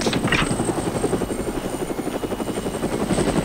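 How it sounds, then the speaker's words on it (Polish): Helicopter in the video game James Bond 007: NightFire, a steady rotor chop with rapid rhythmic thumping and a buzzing engine tone, loud and continuous throughout. "Halo, helikopter."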